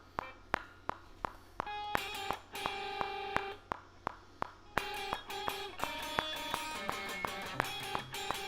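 A metronome ticks in a steady, even pulse, sharp clicks at regular intervals, sounding under sustained electric guitar chords and notes while a skramz song is being written.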